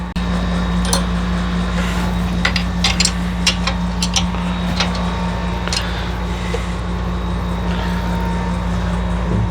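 A rebuilt FC motor runs steadily after starting, giving a loud, constant low engine drone with a droning hum and occasional light clinks and ticks throughout, no talking.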